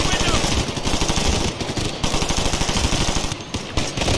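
Rapid bursts of automatic gunfire in a first-person shooter video game, with bullets penetrating a wall, dense and loud in close succession throughout, under a player's voice.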